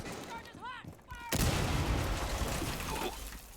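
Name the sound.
explosions and breaching charges in Rainbow Six Siege video game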